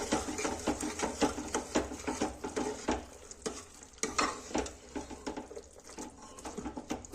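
Peas being stirred and mixed in a pan of sizzling vegetables, with rhythmic scraping and rattling over a constant frying hiss, close up.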